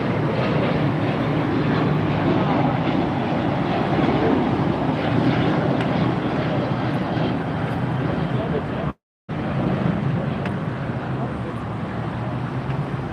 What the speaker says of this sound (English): Looks like Hawaiian Air coming in on the far side. And there's a Qantas with a tug pulling it.